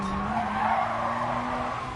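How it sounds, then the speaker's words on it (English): A car's tyres squeal steadily through a drift in GT Sport on the Fuji circuit, a sustained screech over a droning engine note that holds for about two seconds. "Just slightly drifted the car a bit."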